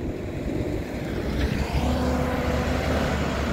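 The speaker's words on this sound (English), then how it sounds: "That's the garbage truck." A large garbage truck's engine rumbles steadily nearby in winter, a low droning roar that grows slightly louder as it rolls past, with no voices.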